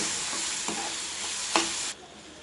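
Mint leaves and tomato sautéing in a pan for ivy gourd chutney, a steady close sizzle with a couple of brief spatula scrapes, cutting off abruptly near the end.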